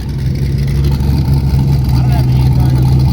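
Loud, steady engine roar from a drag car fitted with an angle kit, running continuously throughout with no distinct launch surge, while people talk over it.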